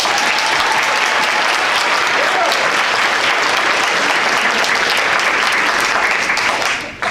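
Enthusiastic applause from the audience at a high school spring band concert: dense, continuous clapping from a large crowd in a hall, holding steady before tapering off abruptly at the end.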